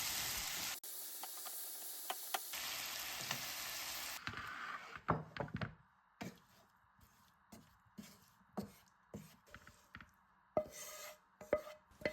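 Chicken frying in a pan until dry: a hissing sizzle at the start gives way to quieter stretches punctuated by intermittent clicks and scrapes, faint and close, with no speech.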